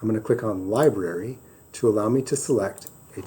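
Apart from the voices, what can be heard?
No everyday noise stands out behind the speech.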